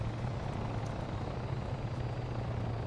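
Steady, continuous helicopter rotor and engine drone from the military game Arma 3, a low, even hum that holds at constant loudness throughout with no talking.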